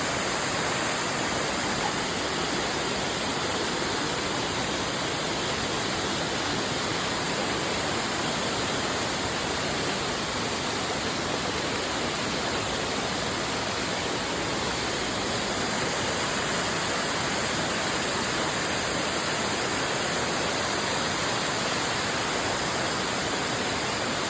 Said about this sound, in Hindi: दोस्तों ये हैं निदान वाटरफॉल की कुछ खूबसूरत सी तस्वीरें